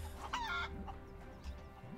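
A chicken clucks in the action game Rise of the Tomb Raider, a quick burst of squawking clucks near the start and a softer cluck later, alone over a low game ambience.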